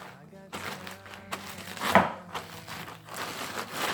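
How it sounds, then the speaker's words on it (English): Crackers for tuna patties crushed with a rolling pin, a run of crunchy crackling bursts and crinkling that comes in uneven waves, close and fairly quiet. "crush up my crackers"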